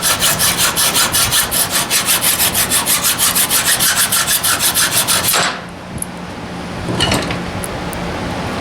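A hacksaw rasps through gasket material in a fast, steady run of back-and-forth strokes, close and loud, for about five seconds, then stops, leaving quiet room noise and a faint clink.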